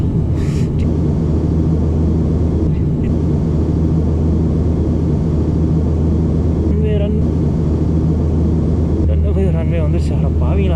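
An airplane lands on a runway in Tanzania, heard from inside the cabin as a steady low engine rumble and roar, with voices talking over it.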